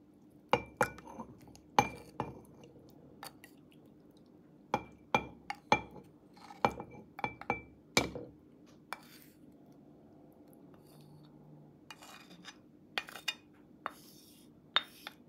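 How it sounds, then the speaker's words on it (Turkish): Homemade aloe vera gel goes into a glass jar, producing a series of sharp glass clinks and taps in uneven clusters, close but fairly quiet, followed by softer scraping and a few late knocks. "Şimdi elde ettiğimiz aloe vera jelini bir cam kavanoza alalım."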